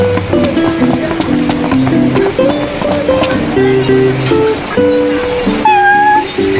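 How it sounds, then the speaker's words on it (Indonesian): Repeated cat meows in the video game Final Fantasy XV, several short tonal calls scattered over a busy mix of game music and effects, with a voice speaking at times. "Ada kucing."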